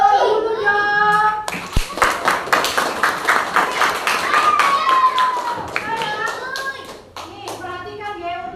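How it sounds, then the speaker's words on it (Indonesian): Children applaud in a grade-two primary school classroom during a maths lesson, a burst of many small hands clapping near and steady for several seconds, with a teacher's voice and children talking over it. "Kasih tepuk tangan dulu dong."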